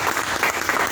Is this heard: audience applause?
yes